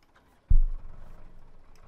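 A small tractor in Farming Simulator 17 turns over with a sudden low thump, then settles into a steady, rumbling idle that carries on to the end.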